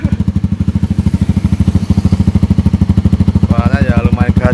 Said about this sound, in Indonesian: Mau tahu suaranya knalpot yang rare ini, knalpot langka ini bentuknya.